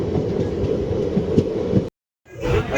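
The Bhavnagar–Porbandar passenger train rolls on after leaving Tithal, a continuous close rumble of wheels and carriage noise with faint clicks, then a sudden brief cutout before the running noise returns.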